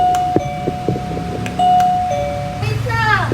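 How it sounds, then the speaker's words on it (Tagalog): A doorbell chimes in a home, a sustained ringing tone with a second ding following, then a rising electronic melody, heard under a child's and adult's voices and household noise. "Nandito lang pala yung doorbell na to."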